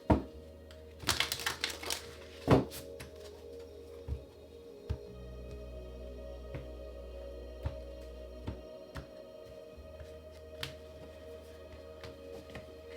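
A couple of quick card riffles snap out at the start, followed by faint scattered clicks and taps over a low hum.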